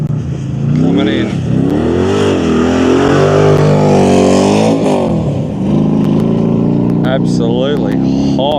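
A Moose Racing rally car roars into a motorkhana stage, its engine revving up and down through rising and falling pitch sweeps, loud and close, while a commentator talks over it.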